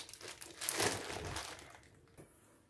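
Crinkling plastic packaging as a diamond painting parcel is unpacked, a brief close rustle and crackle swelling then fading, with no talking.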